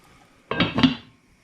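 Peas tipped into a metal pot of kedgeree on the stove give a brief, close rattling clatter lasting about half a second, with quiet surroundings before and after.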